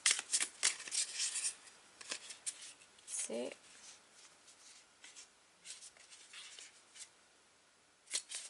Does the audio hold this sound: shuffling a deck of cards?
yes